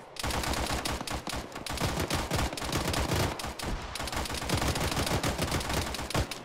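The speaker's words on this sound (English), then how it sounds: "Using the gun!" Sustained automatic gunfire from a mounted vehicle gun in a military tactical shooter game, loud and continuous bursts with rapid rhythmic reports filling the whole stretch.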